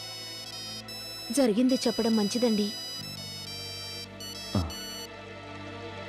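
A phone rings with a steady repeating electronic tone that runs through the whole moment, while a person speaks over it at close range.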